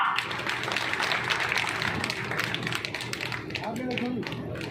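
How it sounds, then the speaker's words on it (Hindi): Loud crowd applause fills an outdoor political rally in India, dense clapping running throughout with voices and a speaker on the public address over it. "जोरदार तालियां।"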